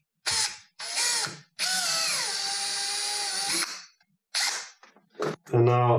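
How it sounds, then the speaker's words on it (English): A power drill bores a hole for a fender flare screw on a vehicle body, whining in several close, loud bursts that rise and fall in pitch, separated by brief pauses. "I'm going to drill my hole here."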